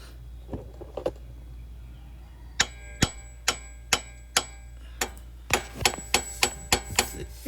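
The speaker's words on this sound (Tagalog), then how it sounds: "yung martilyo natin is maliit lang. Kaya wala ganong pwersa sa pagpukpok." Small hammer tapping on a Mazda 3 tie rod end during a lower control arm replacement, a steady series of sharp metallic ticks, a couple of softer taps first, then two runs of evenly spaced strikes, close and distinct.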